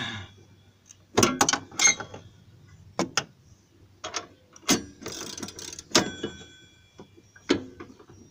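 A rusted bolt slowly turning while being removed during catalytic converter work on a Chrysler/Dodge vehicle, giving irregular sharp clicks and creaks spaced a second or so apart, close and moderately loud, with no talk.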